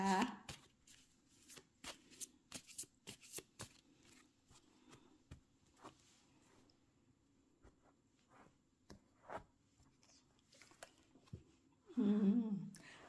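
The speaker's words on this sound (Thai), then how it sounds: "ขอเป็นตัวแทนสับไพ่ตัดไพ่ให้คนเกิดวันอังคารนะคะ" Tarot cards are shuffled and cut by hand in a series of crisp riffling and slapping bursts. They come in clusters with brief pauses, close and moderately loud, with a louder flurry near the end.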